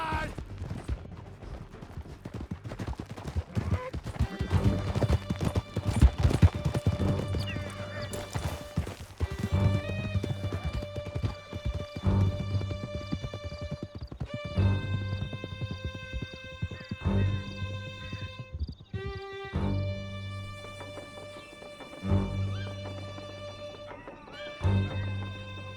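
Several horses gallop hard in Red Dead Redemption 2, with loud rhythmic hoofbeats throughout, repeated neighs and whinnies, and scattered gunshots over a musical score.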